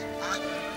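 A duck quacks once on a lake, a brief, soft call.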